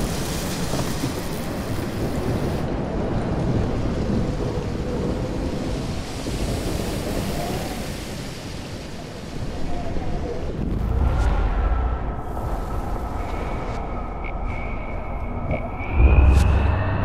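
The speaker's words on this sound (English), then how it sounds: "More storms." Stormy sea in Life is Strange, with a steady roar of wind and crashing waves rumbling throughout, deep booming swells and a louder thunder-like burst near the end.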